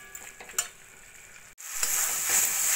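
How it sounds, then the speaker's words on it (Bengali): Green beans with a spoonful of tomato sauce frying over a full gas flame, stirred in a pan with scattered scrapes and clinks, then a steady close sizzle rising after a brief pause. "এভাবে নাড়া দিয়ে একদম শুকনো শুকনো করে নিয়েছি"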